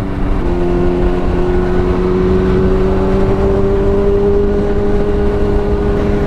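Kawasaki ZX10 1000 cc motorcycle accelerating on a California road, recorded from the rider's position: a loud, steady engine drone whose pitch rises smoothly under strong wind noise, with no talking.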